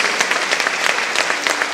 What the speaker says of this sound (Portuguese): Então, aplaudindo o Senhor Jesus e a vida do pastor Renato